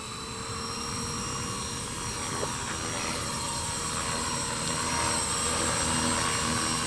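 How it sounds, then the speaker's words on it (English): A helicopter's rotor and engine drone loudly and continuously during a beginner flight lesson, a steady whining roar that builds slightly as power increases for takeoff. "the helicopter gonna start taking off"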